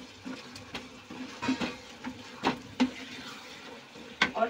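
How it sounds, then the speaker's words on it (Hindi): Green peas frying in a masala gravy for matar paneer as they are stirred in a pan, soft sizzling with irregular scraping and clinking stir strokes, fairly quiet and close. "इसी के साथ मसाले के साथ मैं इसमें मटर डाल दूंगी, जिससे कि मटर हमारी मसाले के साथ ही पक जाए।"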